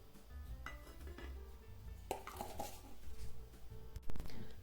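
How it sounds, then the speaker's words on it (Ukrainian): Cake batter for a spring raisin loaf is stirred in a bowl as flour is gradually added, with clinks and scrapes of a utensil against the bowl, close and moderately loud, without speech. "Додаю поступово борошно перемішуючи."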